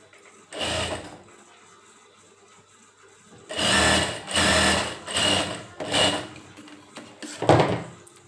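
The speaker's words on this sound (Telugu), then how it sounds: "ఇలా రెండు పక్కల కూడా మనం కొద్దిగా కుట్టుకోవాలి." A sewing machine stitches the pant of a Punjabi dress. One short run is followed by a pause, then several loud, close bursts of whirring with brief gaps between them.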